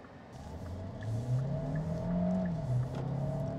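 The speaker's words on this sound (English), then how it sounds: "We'll go ahead and do the same acceleration run here. Put it in sport mode for you guys." 2023 Hyundai Santa Fe Hybrid accelerating hard in sport mode, engine tone rising steadily with brief dips at gear shifts, heard from inside the cabin without talk.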